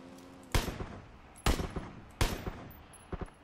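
Three sharp, loud rifle blasts in the video game PUBG, spaced about a second apart, each with a quick echoing tail, plus a smaller fourth pop near the end.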